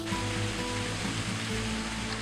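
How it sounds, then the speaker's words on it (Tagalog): Shinglong Waterfalls pouring through an autumn forest in Sun Link Sea, Nantou County, Taiwan: a steady, dense rush of falling water fills the whole clip, close and constant with no voices. "Ang sarap sa tainga pakinggan ang himig ng tubig."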